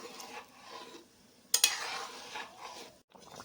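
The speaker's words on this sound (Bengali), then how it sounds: "হলুদ লবণ দিয়ে খুব ভালো করে মিশিয়ে আর একটু ফুটিয়ে নেব।" A spoon stirs a pot of dal with vegetables, salt and turmeric: soft scraping with one sharper metallic scrape and clink near the middle, then quieter mixing.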